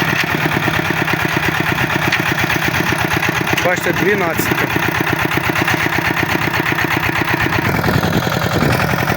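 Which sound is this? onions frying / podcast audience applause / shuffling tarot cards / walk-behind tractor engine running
walk-behind tractor engine running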